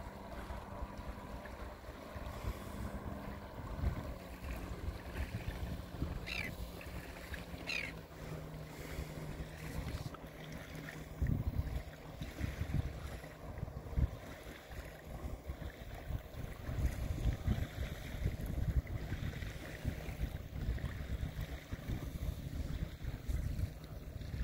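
Boat and jet ski engines hum faintly across Lake Victoria during a yacht race, under steady wind noise and lapping water, distant and continuous.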